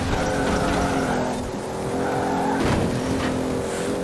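A race car in the Forza racing game at high speed, a sustained loud engine whine and rumble with a rising pitch sweep midway, continuous without pauses or voices.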